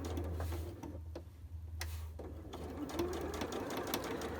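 Sewing machine stitching slowly around the curved edge of a skirt pocket, a close, steady mechanical hum with rapid ticking clicks and a few pauses between short runs.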